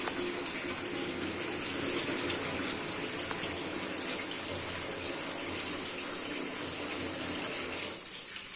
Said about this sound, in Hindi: जब तक पानी वाइट नहीं हो जाता बिल्कुल, तब तक चावलों को धो लेंगे अच्छे से।